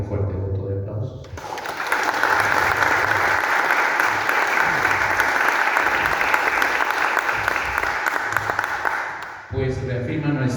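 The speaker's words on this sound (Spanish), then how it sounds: "le pido un fuerte voto de aplausos" Sustained audience applause for an ambassador at a Peruvian book launch about pisco, dense and steady for about eight seconds before fading, with a voice briefly heard at the start and end.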